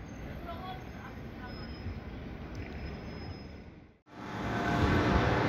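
Station ambience on a platform at Košice railway station late in the evening, a steady rail and crowd rumble with faint voices, dropping out briefly before returning louder and fuller.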